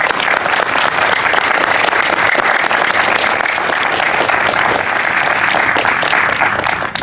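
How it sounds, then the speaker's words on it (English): An audience at a fine arts center reopening applauds, a loud, steady and even wash of many hands clapping that holds for about seven seconds with no talk over it. "Let's give them a round of applause."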